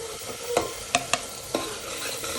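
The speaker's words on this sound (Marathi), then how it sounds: "आता हे चांगलं परतून घ्यायचं तेल सुटेपर्यंत" A spoon stirs turmeric and masala frying in oil in a pan, with a constant close sizzle broken by a few sharp scraping clinks of the spoon against the pan, and no talk.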